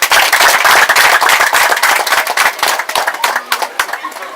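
A crowd applauds at a school key handover ceremony in Lamékaha held with the NGO École pour tous: loud, dense, sustained clapping that thins and fades toward the end.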